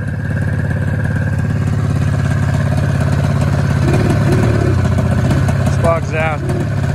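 A 1996 Ski-Doo MXZ snowmobile engine idles with a steady, close putter and then bogs rather than accelerating, while someone talks over it partway through.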